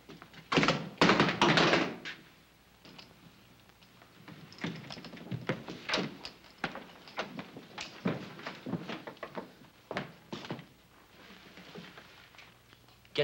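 A revolver kicked across a wooden floor in a 1965 Western film scene, heard as loud thuds and clattering knocks followed by a run of lighter taps and scrapes, close and alone without speech.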